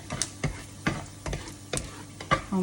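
Wild garlic stir-fried in a pan for a stir-fry with fresh prawns: a soft background sizzle broken by about six distinct spatula scrapes and clacks at an uneven rhythm, fairly quiet and close.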